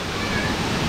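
Steady, dense rush of a two-tiered waterfall, a continuous broadband roar that stays even throughout with no clear breaks.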